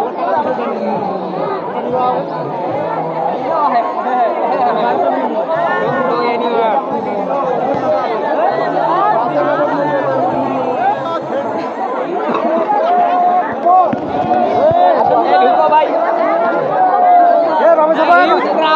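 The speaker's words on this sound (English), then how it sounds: "Huge crowd." A huge crowd mills at the main gate of Kantojiu Temple in Dinajpur, producing a constant loud hubbub of overlapping voices, with a nearby speaker talking through it.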